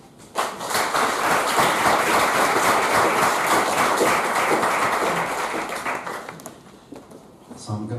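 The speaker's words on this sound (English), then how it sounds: "Big round of applause." A lecture audience at a Latin American cinema event applauds, giving a dense, sustained round of clapping that swells quickly, holds for several seconds, then tapers away.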